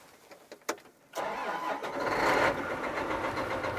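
Articulated tractor engine cranking and catching after a few faint clicks, then settling into a steady, loud diesel run close by.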